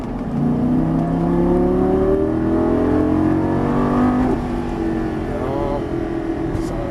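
A Lamborghini Gallardo LP550 accelerating out of a turn on a racetrack, its engine note rising steadily and loudly through the gears with a sustained roar, a brief dip and then climbing again.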